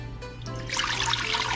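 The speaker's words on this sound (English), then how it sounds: "Go ahead and put the water in." Water poured into a pot on a stove for watermelon wine: a steady, close splashing rush that starts after a brief quieter moment and keeps going without any voices.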